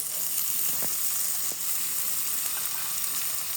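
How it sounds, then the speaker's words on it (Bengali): Paste of ground cumin and garlic sizzling with small fish in hot oil, a dense, close, continuous frying hiss with a couple of faint utensil taps. "গরম আছে তেলটা তো একদম এই যে মশলাটা বেটে রেখেছিলাম সেটা দিলাম জিরা রসুন আর যে ছোটো মাছ"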